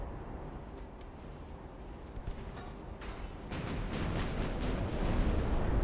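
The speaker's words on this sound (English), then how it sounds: "You can just hear these shells bouncing off" Naval gun shells striking and glancing off a warship's armor in the naval strategy game Ultimate Admiral: Dreadnoughts, with scattered metallic cracks over a rumbling, eruptive roar of artillery that grows louder toward the end.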